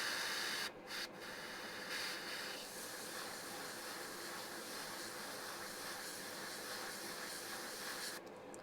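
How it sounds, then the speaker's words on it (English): An airbrush sprays paint onto a wheel from a Tamiya 1/48 A-10A Thunderbolt II model kit, giving a steady soft hiss with a couple of brief breaks near the start, alone and fairly quiet. "And then take your airbrush"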